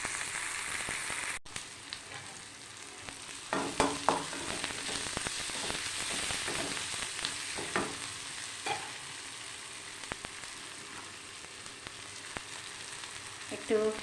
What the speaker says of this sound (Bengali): একটু পেঁয়াজটা দেখো ভাজা ভাজা হয়ে গেছে, একটু লাল লাল হয়ে গেছে